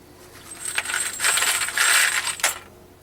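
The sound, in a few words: coin dropping through a coin collator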